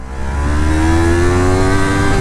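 Yamaha MT-03 naked 300cc motorcycle engine revving steadily and loud, a smooth sustained note with rising harmonics and no talk over it.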